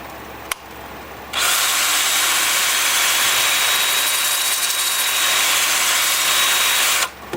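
A wood lathe spins up after a brief click and runs in forward with a loud, steady, high whirring whine that holds for several seconds before cutting off.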